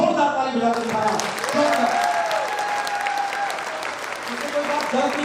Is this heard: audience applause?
yes